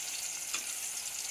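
Drumstick pieces and tomato fry with softened onions in a pan, giving a steady, faint hiss of sizzling oil with no talk.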